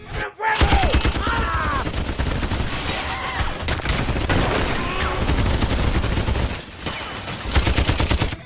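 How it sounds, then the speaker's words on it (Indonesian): Sustained gunfire in a film scene as attackers pour shots into a house, dense and loud bursts blending into a continuous roar with occasional heavier booms, mixed with dramatic sound effects. "kelompok musuh Joe terus menekan dan menembaki rumah tanpa henti"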